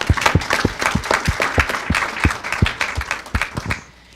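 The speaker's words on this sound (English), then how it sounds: "Everyone give a round of applause for them" Sparse applause from a small board meeting audience, a handful of people clapping at an uneven pace, close and fairly loud, then fading out near the end.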